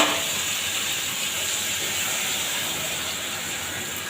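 Ground mustard, cumin and chili paste hitting potatoes frying in a pan, giving a loud, steady hiss and sizzle that holds evenly throughout.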